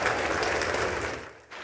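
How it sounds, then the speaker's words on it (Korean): Lawmakers in a legislative chamber cheering and applauding as Nancy Pelosi appears, a brief dense burst of clapping and cheers that fades toward the end. "의원들의 환호와 박수가 터져나옵니다."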